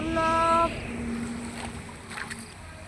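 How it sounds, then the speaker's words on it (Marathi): Rushing rainwater after a heavy night of rain, a steady broad wash of flowing water throughout, with a brief whistle-like tone near the start and faint voices in the background. "बघा एवढं पाणी वाहू राहिलं, एवढं पाणी"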